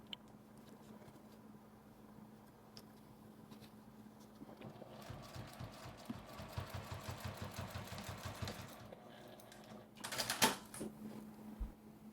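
A sewing machine stitches the side of a fabric mini wallet, starting with a soft hum and then rattling in quick, even mechanical bursts for several seconds before a short louder clatter near the end.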